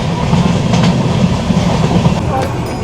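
A steady, loud rumble and rhythmic clatter of the Sikkim Mahananda Express running on tracks between Alipurduar and Siliguri, heard from on board as it passes Madarihat station, with faint voices in the background.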